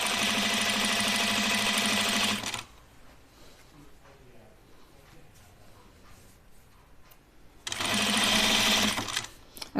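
Sewing machine stitching a men's button-up shirt, running in two steady buzzing bursts with a quiet pause between them while fabric is guided under the presser foot.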